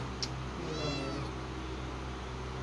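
A single drawn-out meow from a hungry cat, fairly faint and close, over a steady low household hum with no talking.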